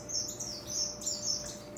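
Small birds in an aviary chirp and tweet in quick, bright bursts that repeat throughout, close and fairly loud, with no talking.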